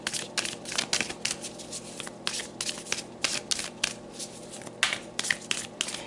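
A deck of oracle cards is shuffled by hand, giving a steady run of crisp riffling and sliding bursts that sit close and clear with no talking.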